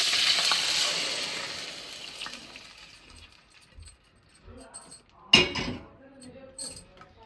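Fenugreek leaves and chana dal curry fry in a pan, a steady sizzle fading over several seconds, then broken by sharp metallic scrapes and clinks of stirring, one loud clatter near the end.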